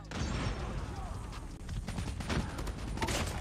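Rapid KN-44 rifle fire in Call of Duty Mobile, dense bursts of gunshots rolling continuously through the whole stretch, loud and busy with layered shots and game effects.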